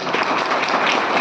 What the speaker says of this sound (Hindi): तो इनके लिए जोरदार तालियां।